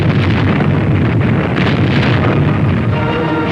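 Naval guns fire amid explosions off the coast of France in 1944 during a WWII landing, a dense, continuous roar of blasts and rumble with no clear gaps, loud and noisy like an old wartime recording.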